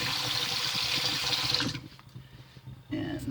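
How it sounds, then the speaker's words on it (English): A razor blade is rinsed under a running bathroom tap during a shave: a steady hiss of flowing water stops briefly and then resumes, close and fairly loud. "Rinse my razor blade underneath the water"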